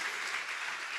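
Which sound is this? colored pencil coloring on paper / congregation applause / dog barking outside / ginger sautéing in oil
congregation applause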